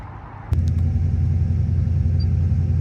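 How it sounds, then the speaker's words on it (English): An LS V8 car engine idles roughly and surges, a close, loud low rumble that kicks in abruptly after a quiet start and then throbs unevenly with no talk. "right now it's got a rough idle, surging idle, and poor AC performance at idle"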